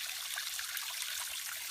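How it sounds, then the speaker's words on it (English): Small spring water trickling out of a hillside in a wildlife management area, a steady, soft, close-up watery hiss with faint burbling and no voices. "I found a little spring"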